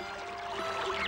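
A small waterfall pours steadily into a lake in an animated Hindi story about three fish, with a continuous rushing splash and no voices.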